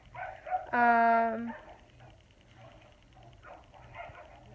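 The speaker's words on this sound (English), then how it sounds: "they're having like doggy playtime outside with my husband, so it's a little loud" Dogs bark and yelp while playing outdoors, one sharp bark followed by scattered softer yips and whimpers at a moderate distance, heard faintly behind a quiet room.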